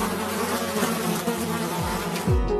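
Steady, close insect buzzing like a mosquito or other small flying insect fills the whole moment without pause, with a low droning hum underneath and no voices.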